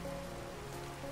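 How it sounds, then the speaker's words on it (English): Steady rain patters and hisses across surfaces in the platformer game A Hat in Time, a soft even wash with low background tones and no voices. "I do like this rain effect. It's really cool."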